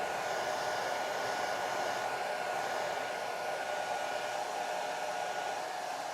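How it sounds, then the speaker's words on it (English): A hair dryer blows steadily at close range while drying a wet watercolor painting, an even, unbroken whooshing hum that holds at the same level throughout. "So this will take probably another minute here to get a little more power here on the dryer."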